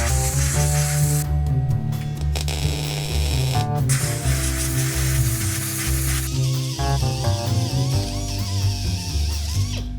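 Parts on a 1966 Volkswagen Beetle are welded in a steady, loud, crackling hiss that runs throughout with a constant electrical hum beneath, interrupted by brief sharp bursts and pauses.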